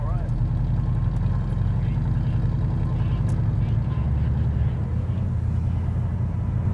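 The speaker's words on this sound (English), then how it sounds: "immediately you can really hear the American engine noise" A 1969 Mercury Cougar convertible with a 351 cubic inch V8 drones steadily and loudly from inside the cabin while driving, a low continuous rumble with voices talking over it.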